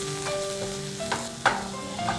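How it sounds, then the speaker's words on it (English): Chopped onions and garlic paste sauteing in hot oil over a medium flame, a steady close sizzle broken by a few sharp stirring scrapes against the pan. "we'll saute this on a medium flame for 2 minutes."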